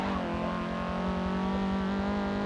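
Honda Civic Type R hot hatch in Forza Motorsport 7 racing, a steady loud engine drone holding a constant pitch throughout, close and continuous with no talk over it.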